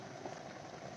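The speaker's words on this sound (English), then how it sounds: "you should be able to see the water wobbling there a bit, and it starts boiling" An electric kettle comes to a boil inside a camper van, giving a steady, dense rumbling hiss of bubbling water that stays even and fairly quiet throughout, with no talking over it.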